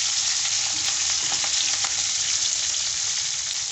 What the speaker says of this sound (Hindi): इसलिए इसे बिल्कुल लो फ्लेम पे फ्राई करें ताकि ये इसका बीज जो है वो उड़े नहीं